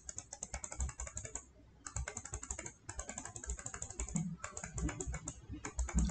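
Keys on a computer keyboard are pressed in quick clattering bursts, like the Alt and Backspace keys being hit during Word editing. The crisp clicks come close and fairly quiet, broken by short pauses, with no voices.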